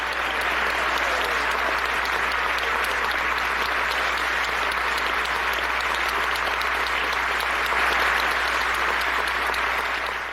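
Standing ovation in the Canadian parliament after an address by Zelensky, long unbroken applause from many members, dense and steady at full strength throughout, with a low steady hum underneath.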